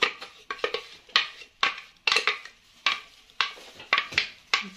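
Spatula scraping creamy cake batter from a blender jar, a string of short scraping and knocking strokes in irregular bursts, close and fairly loud with no talk.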